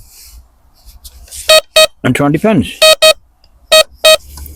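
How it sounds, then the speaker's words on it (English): Laser Power Max metal detector giving paired double beeps over two buried targets, several sharp tonal beep pairs spaced across the clip, with someone speaking briefly between them. "With a sort of double beep indicating there's 2 targets."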